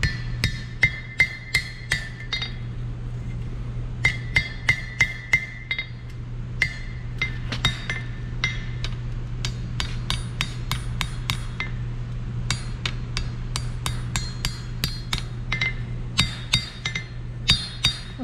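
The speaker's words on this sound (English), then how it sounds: "it's just cooler to know that you can like get everything pretty close to perfect with just your hammer" A blacksmith strikes metal with a hand hammer in a smithing studio, sharp ringing blows landing in irregular bursts and steady runs, close and clear, with a low hum underneath.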